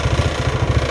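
A Yamaha Mio 115 scooter with a hard-starting, unsteady-idle fault sits idling close by, its engine putting out a steady, throbbing low pulse with no other sounds.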